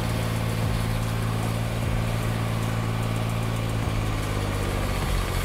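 Machine engine running at half idle while driving up steep trailer ramps, a steady mid-pitched rumble with continuous vibration throughout, no talking.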